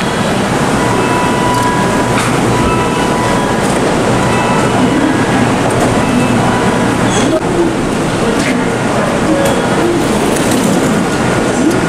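Steady rumble and hiss of a Shinkansen high-speed train in a Japanese station, with faint chimes and distant voices mixed into the constant noise.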